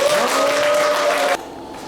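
A crowd applauds and cheers to open the entrance ceremony of a peace and unification leadership course. The loud clapping carries a sustained vocal tone and cuts off abruptly near the end.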